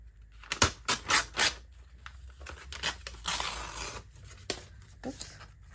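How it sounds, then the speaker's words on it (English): Magazine paper is torn by hand in several quick ripping strokes, close and crisp, with rustling and crinkling between pulls and a longer tear near the middle. "I'm tearing because I actually like the thought of having a ripped edge on this"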